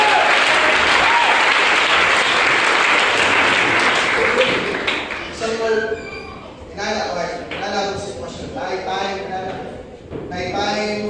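A church congregation bursts into loud, dense applause during a pastor's sermon, a continuous roar of clapping for about five seconds that gives way to a voice speaking over thinning claps.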